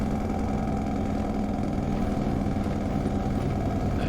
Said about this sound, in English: Let's keep that engine brake on, I think.